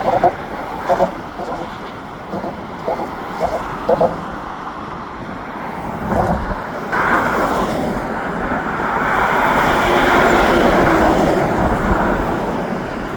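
An REM light metro train approaching on the Samuel De Champlain Bridge in Montreal in winter, a rising mechanical rumble that swells and stays loud, following traffic thumps over an expansion joint.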